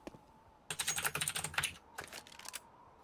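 Fast clicky typing on a computer keyboard with blue switches, a dense burst of close keystrokes followed by a shorter second flurry and a few single taps.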